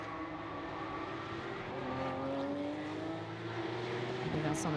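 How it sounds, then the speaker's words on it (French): Porsche Carrera Cup race cars brake hard at the end of a straight on a racing circuit in Barcelona, engine notes falling and shifting as the cars pass. The engines sound fairly distant and moderately loud, with no speech. "Ça passe pour Geoffrey Denarda ici au freinage du bout de ligne droite"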